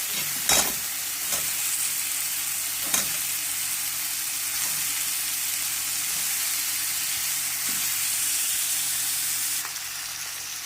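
Eggs go into a masala gravy frying in a pan, producing a continuous close sizzle with a few sharp spits and scraping stirs, no voices.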